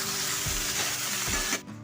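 Jujubes frying with cloves, cardamom and cinnamon in hot mustard oil for a village-style pickle, a steady close sizzle with soft stirring scrapes throughout, dropping away abruptly near the end.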